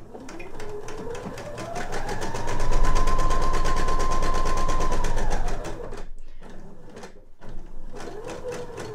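A sewing machine with a size 11 needle sewing a 3.0 straight stitch hums steadily through rapid stitching, its motor rising to a sustained high whir, then stopping briefly before starting up again.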